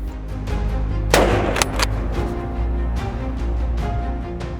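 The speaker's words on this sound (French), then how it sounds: "Tout le monde est en place, on peut commencer à tirer." Hunting gunshots during a wild boar drive in Sologne: one loud nearby shot, then two quicker reports, with outdoor ambience and a few faint, distant pops afterward.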